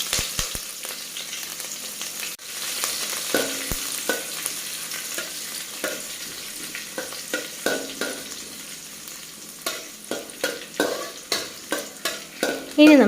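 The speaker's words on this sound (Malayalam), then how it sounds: "ഇനി ഇതിലേക്ക് നമുക്ക് ഇഞ്ചിയും എടുത്തു വെച്ചിരിക്കുന്ന പച്ചമുളകും ചേർത്ത് വഴറ്റി കൊടുക്കാം." Ginger and green chilies sautéing in hot oil with mustard seeds, a steady sizzle with repeated stirring scrapes and clinks that grow more frequent toward the end.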